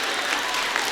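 Brief burst of audience applause at a Hindi kavi sammelan poetry gathering, a dense, steady clatter of many hands filling the whole moment.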